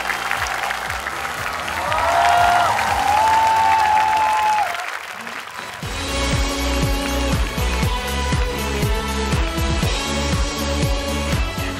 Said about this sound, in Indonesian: Sekali lagi semua tepuk tangan untuk Kevin Leon